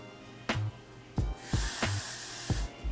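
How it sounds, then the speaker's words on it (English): A can of Gatsby hairspray sprays onto a wig in one longer hissing burst, surrounded by several short clicks and taps from handling, close and fairly quiet. "I'm gonna take my Gatsby and just spray it"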